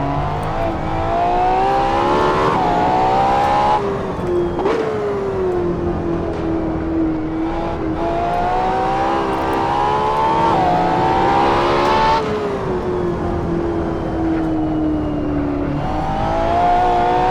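A Ferrari LaFerrari hybrid supercar in a racing sim revs and accelerates continuously, its engine note climbing and dropping through repeated gear changes, loud and close with a rasping, high-pitched howl and no talking.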